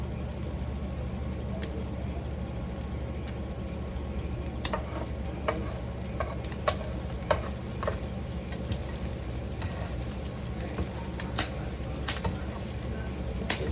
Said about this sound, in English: with the cottage cheese in there, it takes a little bit more to get the egg cooked